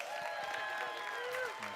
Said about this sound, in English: Big round of applause for Michael Valdez.